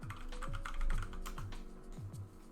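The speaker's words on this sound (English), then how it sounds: "I was typing that." Steady typing on a computer keyboard, a continuous run of light close-up key taps over a low background hum.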